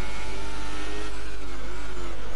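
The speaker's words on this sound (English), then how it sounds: "too much revs, more short shifting needed" An F1 car engine over-revs in wet conditions in a sim racing video game, a loud, sustained high-pitched whine with rising and wavering pitch that stays close throughout and carries no talk.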